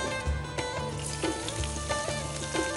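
Chopped garlic frying in a pan for a Bengali home-style dish, giving a steady close sizzle with occasional crackles and light clinks of a utensil, with no voices over it.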